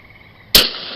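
A single sharp gunshot from a video game, a sudden loud crack over a quiet electronic hum, ending in a short bright decay.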